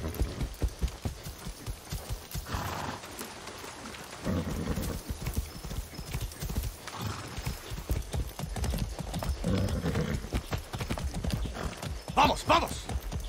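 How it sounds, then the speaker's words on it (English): Horse hooves clip-clop steadily in Far Cry 6, a rhythmic trotting beat close by, with occasional whinnies and a voice speaking over it. "That's a good horse."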